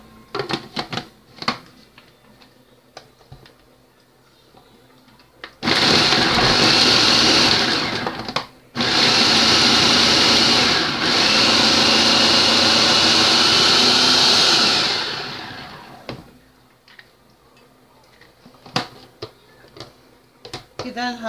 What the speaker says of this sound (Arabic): راح نفرم البصل والثوم مع بعض.